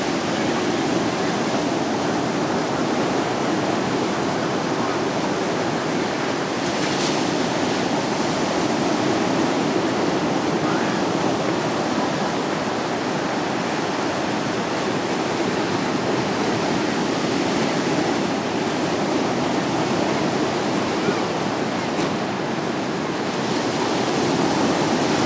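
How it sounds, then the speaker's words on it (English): Ocean waves wash in a constant, loud, hissing roar that holds steady for the whole stretch, with no voices over it. "The ocean."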